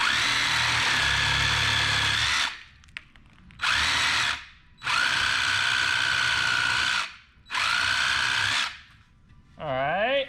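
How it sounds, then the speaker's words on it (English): A Sawzall reciprocating saw cuts a wooden chair tenon flat in four loud, steady bursts separated by short pauses, ending with a quick high whine. "We're gonna use a Sawzall, but you can use a handsaw or whatever you got to make it flat"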